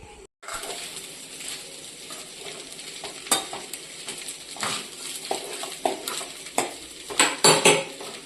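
Tempered rice cooks in a metal pot, with a spoon stirring and scraping against the sides in irregular clinks and knocks over a faint sizzle, close and busy throughout.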